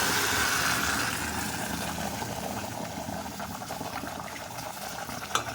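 Brinjal side dish gravy, thickened with idli batter, simmers in a pot with a steady low bubbling rumble and a continuous close hiss, ending in a single brief knock, with no talking.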